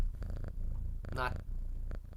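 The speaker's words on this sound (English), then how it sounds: "She's purring right in front of the microphone." A cat purrs right against the microphone, a low rumbling vibration running steadily through the moment with a brief squeaky chirp in the middle, close and fairly loud.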